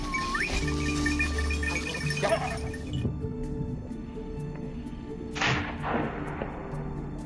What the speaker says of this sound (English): The hunter fires.